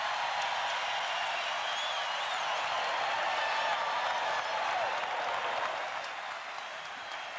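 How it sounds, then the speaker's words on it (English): A basketball arena crowd at a Chicago Bulls vs Los Angeles Lakers game roars and applauds in a loud, sustained wash of cheering and clapping, easing slightly near the end. "Most of those people up cheering can't quite believe what they saw Rambis do."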